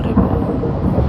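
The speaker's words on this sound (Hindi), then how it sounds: "आसमान में होने लग गई अभी भयंकर आवाज़।" Thunder rumbles across the sky over a Pahadi mountain village, a loud, close, continuous low roll lasting about a second with no talk.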